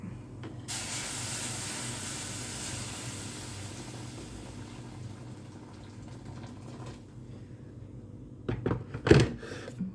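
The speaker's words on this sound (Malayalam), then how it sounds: "കട്ടനകത്ത് തിളപ്പിച്ച് വെച്ച വെള്ളം ഒഴിച്ചു" Hot boiled water is poured into a pot of fish curry, producing a steady rushing hiss that fades gradually, then ends with a few sharp clinks and knocks of a vessel near the close.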